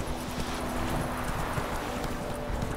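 Horse hooves clip-clop at a steady trot in the fantasy video game The Witcher 3: The Wild Hunt, a moderately loud, continuous rhythmic patter heard alone.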